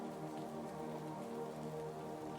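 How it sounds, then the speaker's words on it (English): Soft, steady rain patters on a surface, gentle and continuous at low volume with no voices. "The rain continued its soft percussion"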